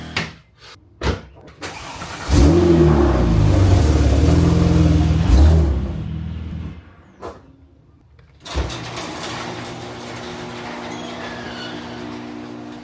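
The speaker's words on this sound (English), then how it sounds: "Sorry about the air compressor noise." A motor-driven air compressor runs with a loud, steady hum in a car repair shop, cutting out briefly, then kicking back on near the end.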